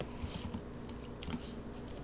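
Quiet, steady typing on a computer keyboard, with rapid light key clicks in an irregular rhythm and no talking.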